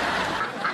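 A duck quacks in a dense, raspy burst, loud and close, filling the whole brief moment with no talk over it.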